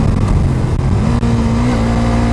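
Suzuki GSX-R 125 ABS motorcycle engine held at full throttle in fourth gear, a loud continuous drone with a steady pitch that climbs slightly midway, alone with no talk.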